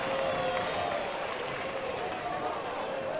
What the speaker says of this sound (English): Ironic cheers from the home crowd.